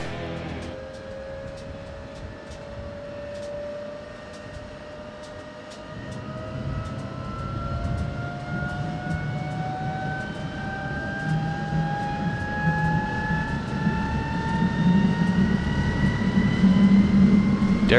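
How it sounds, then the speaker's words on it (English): T-33 vintage military jet engines spool up with rising whine tones climbing steadily over a deep rumbling roar that grows louder toward the end; faint talk may sit underneath. "it was time to fire up the jet engines."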